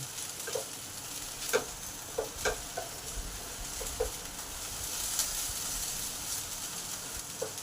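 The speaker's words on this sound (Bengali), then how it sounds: "আবার আলুগুলোকে একটু নেড়ে দিলাম" Potatoes frying in a pan for spicy aloo bhaja, being stirred: a quiet, steady sizzle is broken by scattered soft scraping and clicking taps from the stirring, close and alone with no talking.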